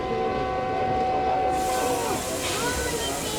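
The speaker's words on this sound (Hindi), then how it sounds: "हमारी ट्रेन ने भी डिपार्चर व्हिसल दे दी है" A train gives its departure whistle at a station, a sustained tonal blast over the rumble and hiss of the railcar, with a brief change in the noise partway through.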